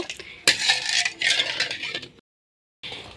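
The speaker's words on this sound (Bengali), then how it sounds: "এভাবে নাড়তে হবে যতক্ষণ না পর্যন্ত চিনিগুলো গলে যায়" A spoon scrapes and stirs sugar syrup with food colouring as it melts and thickens in a pan, making close intermittent scraping strokes, then a short silence before stirring resumes.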